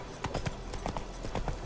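Roach, the horse in The Witcher 3, gallops with a quick, rhythmic run of hoof clip-clops, close and clear, and faint speech sits underneath.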